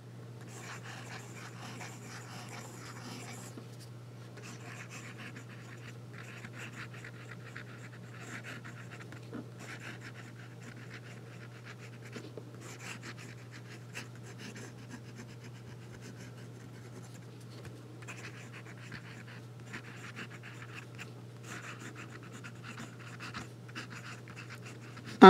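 A Namisu Nova fountain pen with a Bock fine steel nib scratches softly across paper in steady, faint strokes over a low constant hum, with short pauses between bursts of writing.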